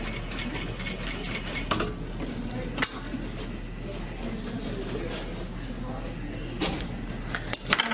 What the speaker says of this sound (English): at that 3/4 inch marking on your machine and just stitch a straight stitch across your pocket